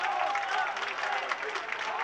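A home crowd at a boxing tournament final reacts to a decision with a dense wash of crowd noise, steady and loud throughout, with a commentator's voice running over it.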